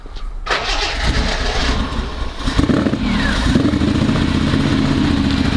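A Reliant Scimitar engine cranks and catches, then runs roughly at close range, struggling to hold idle with an uneven, lumpy note that surges and sags without settling.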